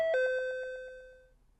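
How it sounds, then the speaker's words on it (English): A doorbell gives a single ding-dong chime, the second tone ringing out and slowly fading with a faint tremble, alone and close by. "rings the doorbell"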